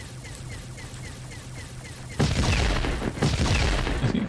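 Explosions and gunfire from the video game War Machine: a quiet steady hum with faint rhythmic pops for two seconds, then a sudden loud burst of booming blasts and crackling shots that rumbles on to the end.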